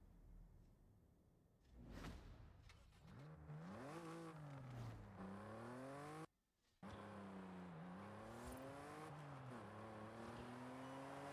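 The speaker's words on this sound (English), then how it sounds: "It's a Mark IV Golf with a nice and throaty VR6 engine under its hood." A 2003 Volkswagen Golf R32 Mark IV with a VR6 engine pulls away and drives, its throaty exhaust note rising and falling through gear changes, heard from inside the car with a brief cutout midway.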